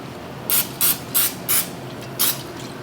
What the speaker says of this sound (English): olive oil, spray. Spray it down.